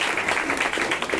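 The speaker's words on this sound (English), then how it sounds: "give him a round of applause" Brief round of applause at a music production therapy workshop, a short steady patter of clapping from a small group in a room.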